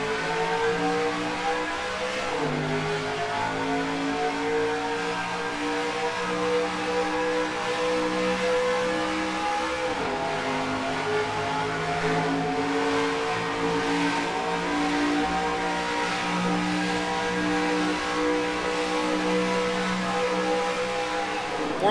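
Race car engines in the NASCAR Racing 2003 video game, heard from the in-car view as the field takes the green flag at the SimTel track: a loud, continuous engine drone that rises in pitch twice as the car accelerates through the gears.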